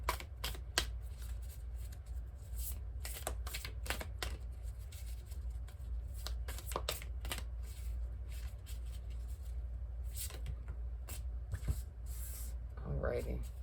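Tarot cards being shuffled by hand, with repeated crisp riffling bursts at irregular intervals over a low steady hum, fairly close and quiet.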